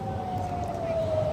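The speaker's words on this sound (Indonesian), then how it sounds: "sirene peringatan serangan Iran terus berbunyi tanpa henti" An air raid warning siren wails over the city of Eilat, Israel, a single steady tone sliding slowly lower, continuous and fairly loud over a low rumbling background.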